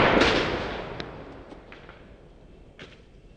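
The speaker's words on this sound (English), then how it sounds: "it made like a pew, like a rocket sound whenever I shot that spray paint can" A Megalodon .50 caliber pump-action air gun fires and the shot strikes a spray paint can, producing a sudden loud whooshing blast that fades over a few seconds, with faint clicks afterward.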